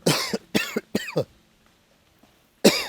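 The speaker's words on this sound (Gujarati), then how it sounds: "આ ઉધરસ પીછો નથી છોડતી" A person with a persistent cough coughs several times in quick, harsh bursts close by, then pauses in near silence before a final cough.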